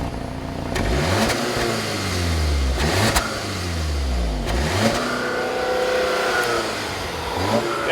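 A 2015 Audi A3 with a 2-liter engine accelerates hard, its exhaust note climbing in pitch through repeated gear changes, steady and fairly loud throughout without talk.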